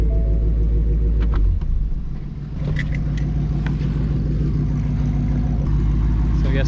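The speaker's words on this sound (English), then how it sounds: "That's Gabe's car cooling off." A performance car sits running after a dyno pull, its engine rumbling low and steady at close range, dipping briefly before settling back into a constant idle drone.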